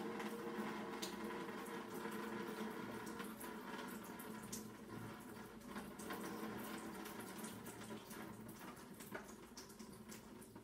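Drain opener working in a clogged drain packed with peanut butter cream, a steady close gurgling, fizzing wash of water that runs on without pause or talk.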